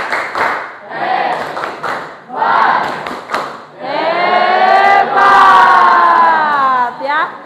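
A classroom of children performing a group chant-and-clap cheer for a classmate, rhythmic bursts of claps and thumps followed by loud sustained shouting voices in unison, close and energetic.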